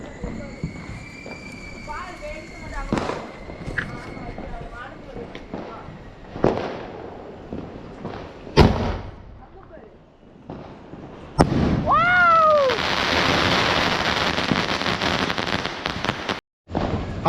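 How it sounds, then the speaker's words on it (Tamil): Diwali sky shot fireworks launching and bursting overhead, sharp cracks and whistling rises scattered among excited voices, then a dense crackling shower of bursts that stays loud until a sudden cutoff. "இப்போ வந்து இங்கே ஒரு தர்சனா இதே வானவெடி வெடிக்க போகிறோம்"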